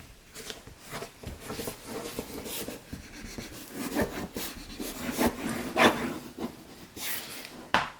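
A bone folder presses and rubs paper corners flat on a boho wedding scrapbook album, giving soft, close scraping strokes with a few sharper rasps.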